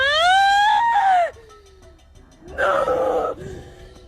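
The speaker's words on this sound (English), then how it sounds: "The woman screamed and bolted from the scene, leaving her camera rolling." A woman's scream rings out loud and close in a dark, tense scene, a long rising-and-falling cry followed by a brief pause and a second, rougher burst of screaming.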